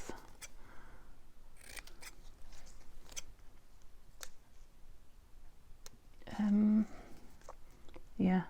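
Scissors snip through paper while making planner and junk journal pages, with scattered light clicks and crisp cuts, close up, plus a couple of longer slicing strokes near the end.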